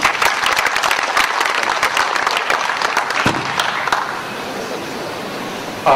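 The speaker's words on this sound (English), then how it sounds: "A round of applause for Mr. Jagadeesh once." Applause for keynote speaker B V Jagadeesh at Interop Mumbai 2009: loud, crisp clapping from a conference audience that thins out after about four seconds into a quieter hall murmur.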